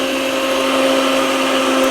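A blender runs continuously, mixing a milkshake with a loud, steady high-pitched whine that holds level for the whole stretch.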